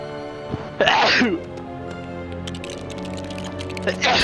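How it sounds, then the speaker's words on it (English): A single sharp sneeze bursts out near the start of a LEGO Batman video game session, over steady electronic game tones and a low background hum, followed by quieter sounds. "sneeze."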